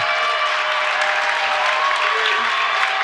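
Crowd cheering and applauding at a Lady Redbird girls' high school basketball game, Metamora vs Washington, a steady dense roar of clapping and voices throughout, loud and sustained.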